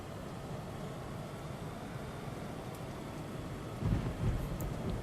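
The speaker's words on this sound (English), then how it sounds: "And it looks like it's raining." Steady rain in the video game Carrier Command 2 hisses continuously while a low rumble of thunder swells near the end, with no voices.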